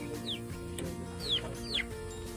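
Chickens cluck and give short rising calls, three or four distinct vocalizations at close range over a low steady background, with no talking.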